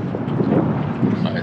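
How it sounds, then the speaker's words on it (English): Wind gusts by the Sacramento River during a salmon fishing outing, a loud, low rumbling buffet across the microphone that swells and eases over a short moment. "A little windy."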